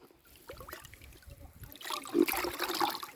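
Water sprays and splashes against a car during a hand wash, a hissing, broadband gush that builds louder in the second half, with people talking nearby.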